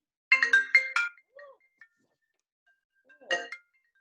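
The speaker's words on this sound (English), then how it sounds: "My phone is ringing on my computer." A phone ringtone sounds through a computer during a guided stretching session, with a quick burst of bright repeated tones at the start, a short pause, then another brief ringing burst near the end.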